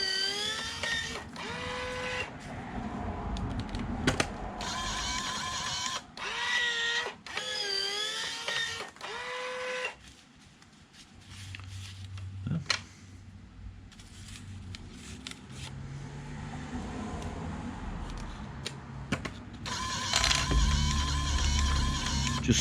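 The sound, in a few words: homemade cigarette rolling machine running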